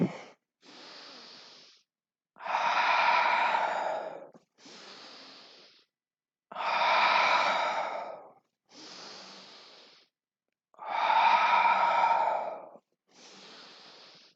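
Steady yoga breathing as a flow moves between poses: long, airy inhales and exhales alternating in an even rhythm, some louder and fuller, others softer, close and with no talk.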